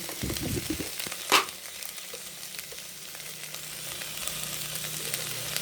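Okra pieces frying in oil in a pan, a soft steady sizzle with stirring scrapes and a sharp clatter early on, fading to a quieter hiss.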